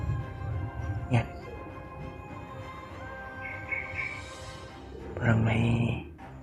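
Starfield game audio carries a couple of short dog barks, one early and one near the end, over background music and effects.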